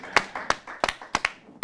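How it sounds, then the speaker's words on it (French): A small gathering at a church prayer evening claps sparsely, with a handful of distinct, separated claps in an uneven rhythm, close and fairly soft. "on applaudit très fort"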